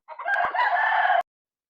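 A single rooster crows once, loud and close, a sustained raspy call lasting about a second before cutting off.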